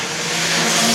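Pure stock race cars roar around a dirt track, a loud, steady engine drone that builds slightly through a very short burst, with no talk.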